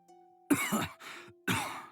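A raspy, loud cough in three harsh bursts in quick succession, close and clear, with no other sound.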